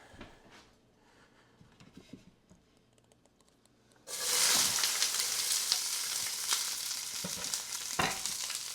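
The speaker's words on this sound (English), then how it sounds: "we're going to just throw the onions in and get those cooking." Onions hit hot olive oil in a cast iron pan partway through, bursting into a loud, steady sizzle and frying hiss that continues close up, after quieter handling sounds beforehand.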